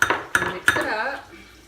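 Mayonnaise and pesto being mixed in a container for pesto turkey burgers, with several sharp clinks of a utensil against the container followed by softer scraping and stirring, close and alone.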